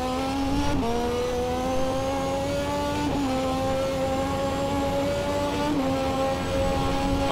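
A Lotus 98T turbo Formula 1 car in a racing game holds a loud, steady, high-pitched engine drone that dips briefly at about three gear shifts or lifts, then climbs straight back.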